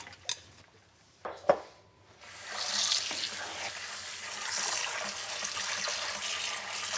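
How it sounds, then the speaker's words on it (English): Cold tap water runs steadily into a sink to rinse salted food, a continuous hiss that takes over after a few clinks of dishes and a brief knock at the start. "rinse this and get the excess salt out in cold water"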